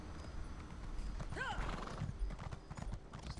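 In Elder Scrolls Online, a horse gives a clear whinny against steady clip-clop hoofbeats and dense tavern-like background ambience with a voice faintly underneath.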